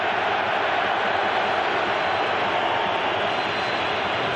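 A large football stadium crowd at a World Cup qualifier roars continuously, a broad, steady wash of cheering and noise that stays loud and even from start to finish.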